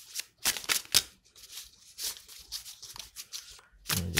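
Oracle cards being shuffled by hand, a run of crisp riffling bursts spaced unevenly, fairly close and moderately loud, with brief pauses between and a heavier shuffle at the end; no voices.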